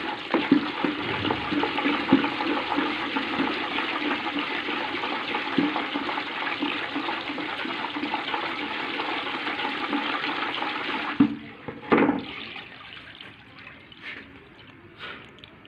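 Phenyl solution is stirred without pause, giving a loud, steady watery swish for about eleven seconds. It then drops away to a few faint sloshes and drips.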